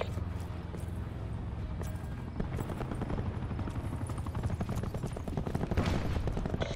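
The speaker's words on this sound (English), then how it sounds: "Hostile attack chopper inbound." Attack helicopter rotors chop steadily under rapid bursts of gunfire in a Call of Duty Black Ops 4 multiplayer match, a dense, continuous battlefield din.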